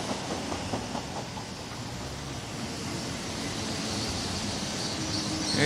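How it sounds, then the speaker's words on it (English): A train approaches as a low rumble that swells steadily, growing louder toward the end. "Is that a train coming in?"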